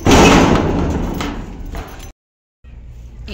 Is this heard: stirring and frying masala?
no